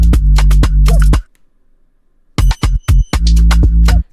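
An Afro remix break in which punchy kicks are layered on a booming 808 bass. Dense, rhythmic kick hits ride the bass, drop out for about a second, then return in a short stuttering burst before the groove resumes, all loud and upfront.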